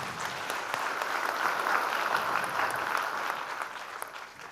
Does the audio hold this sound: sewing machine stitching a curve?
no